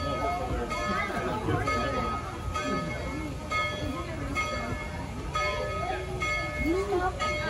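Tweetsie Railroad heritage train ride with steady rumbling and clattering of rolling cars throughout, a faint bell-like ring in the background, and people talking over the train noise nearby.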